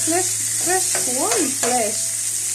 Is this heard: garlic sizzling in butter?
yes